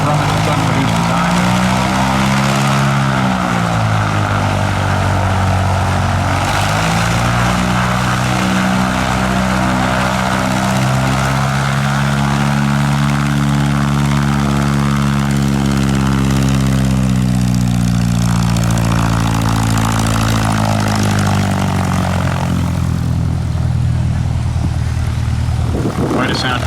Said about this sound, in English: Quite a sound coming from that pusher prop.